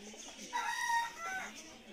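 Several kinds of pigeons kept in a pigeon farm in Assam, some in cages, fill the air with a steady, faint layer of bird calls.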